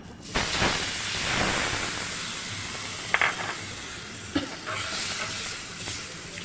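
Tamarind juice poured into a hot pan of squid curry gives a loud, hissing sizzle that rises quickly and steams on, with a few clinks and stirring scrapes partway through.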